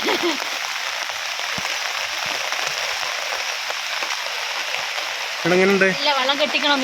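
Heavy rain keeps up a constant, loud rushing hiss for several seconds on its own before a person starts talking over the downpour near the end.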